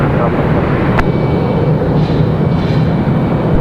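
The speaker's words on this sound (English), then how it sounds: "That one's headed out to Miami. American Airlines 1916. That was a 737-800." An American Airlines Boeing 737-800 airliner at Raleigh-Durham International Airport gives off a continuous, loud, rumbling jet roar, with voices faintly present underneath.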